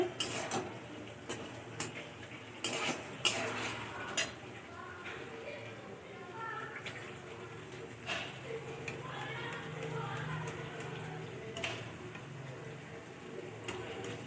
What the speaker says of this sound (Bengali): টক দইটা ভালো করে ফাটাতে হবে, যাতে না ল্যাম ল্যাম থাকে